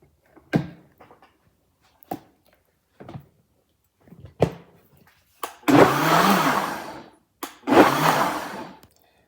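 A kitchen blender gives a couple of short spins mixing an almond milk smoothie with chia seeds, two loud whirring bursts following several sharp knocks and clicks from handling the jar and lid.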